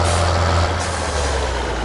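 Heavy truck traffic in the Farming Simulator video game rumbles past as a steady, loud engine drone with a continuous broad roar and no talk.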